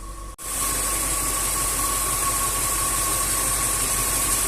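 A cold Range Rover 4.2 supercharged engine idling at about 700 rpm with misfires and a supercharger knock, heard close as a steady droning hum with a faint whine after a brief dropout at the start.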